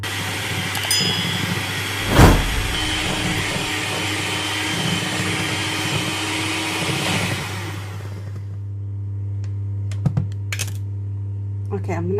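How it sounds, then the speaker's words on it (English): An electric hand whisk beats cream cheese and caster sugar into cheesecake batter, a steady close motor whir with a sharp clatter early on, running for about eight seconds before cutting off to quiet room noise. "I'm going to whisk this through."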